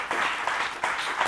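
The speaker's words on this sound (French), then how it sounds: "Vos applaudissements." Brief burst of studio audience applause closing a French TV presenter contest final, steady clapping heard alone at moderate loudness.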